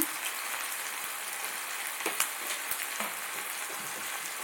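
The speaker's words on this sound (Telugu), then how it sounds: "ఉల్లిపాయ ముక్కలు వేగిపోయిన తర్వాత మనం వంకాయ ముక్కలు వేసుకోవాలి" Eggplant pieces sizzle in a pan with onions, a dense, steady hiss that sounds almost like rain. A few light clinks and stirring scrapes break through near the middle, all close by, with no talk.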